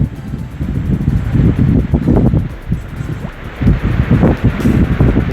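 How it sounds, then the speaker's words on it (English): Strong wind gusting across open moorland on an autumn walk, a continuous blustery roar with low buffeting rumble against the microphone, rising and falling in loud surges throughout. "You see how windy it is."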